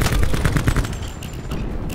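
Gunfire in Call of Duty Black Ops 4, a dense burst of rapid automatic shots for about a second that fades into a lingering rumbling tail, loud and close with no voices.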